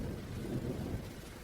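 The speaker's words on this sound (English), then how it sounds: "The rain kept getting heavier with no sign of stopping." Heavy rain pours down in a dense, continuous roar mixed with low rumbling thunder, steady and enveloping with no other sounds.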